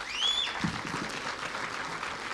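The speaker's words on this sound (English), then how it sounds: "Give them a clap," An audience at an outdoor groundbreaking ceremony for a geothermal project claps in a steady, moderate burst of applause, with a brief whistle near the start.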